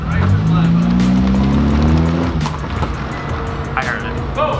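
A Camaro SS revs and drives past on a street, its loud, rumbling engine note rising and then fading as it goes by, with people talking over it.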